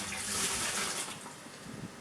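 Scoops of old fish water are poured into a homemade fish food making device, a steady close gush of splashing liquid that fades slightly toward the end.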